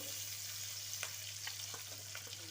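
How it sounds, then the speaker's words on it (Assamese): Onions frying in a pan while a fish dish is cooked, giving a faint, steady sizzle with a few small pops and crackles, heard alone and without speech. "এতিয়া আমি পিঁয়াজ এইটো গৰম হ'বলৈ দিলোঁ।"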